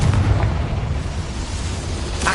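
A Confringo blasting spell from the Hogwarts Legacy video game bursts in a dense, loud explosive roar that fills the whole stretch, heavy and sustained with a low rumble and a sharper flare near the end.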